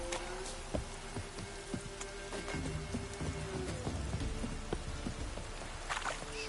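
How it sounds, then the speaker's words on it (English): Steady patter of rain in the video game Witcher 3, with scattered drips and taps, a low background hum running beneath it. "Looks like rain."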